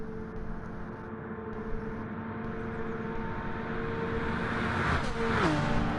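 A Le Mans GR1 racing car's engine in a video game drones steadily at high revs, then its pitch drops sharply as it downshifts, loud and continuous.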